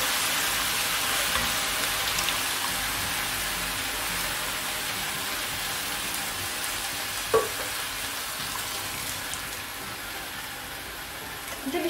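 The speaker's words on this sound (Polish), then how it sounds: "Ok, myślę, że już możemy wlewać nasze pomidory." Canned chopped tomatoes going into a hot cooking kettle for a one-pot dinner, heard as a loud, steady sizzle and frying hiss that runs unbroken, with one brief clunk near the end and no talking.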